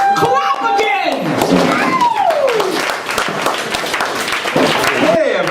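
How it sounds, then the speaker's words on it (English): Audience clapping at a creative writing event, irregular hand claps and thumps mixed with loud, excited voices and whoops that rise and fall through the crowd. "Clap again!"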